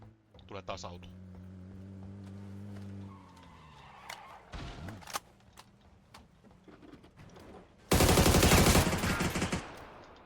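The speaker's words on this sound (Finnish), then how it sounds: "Tulee taas auto." Car engine in PUBG on the Erangel map, a steady tonal drone that rises and then drops off, followed by sharp bursts of gunfire and a loud crash near the end, with players talking over it.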